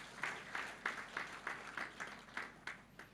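Congregation in a church service clapping in a steady rhythmic beat, about three claps per second, moderately loud and fairly close, with no talk over it.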